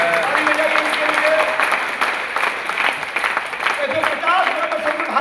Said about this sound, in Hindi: ताली बजाइए इनके लिए, ताली बजाइए इनके लिए।